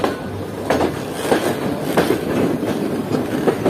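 Karakoram Express passenger train running on the main line, a steady loud rumble with rhythmic clickety-clack of wheels over rail joints, heard from on board.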